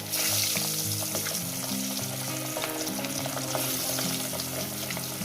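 Fish pieces slide one by one into hot oil for a Bengali fish curry, setting off a loud, continuous sizzle and crackle of frying up close, with no voices.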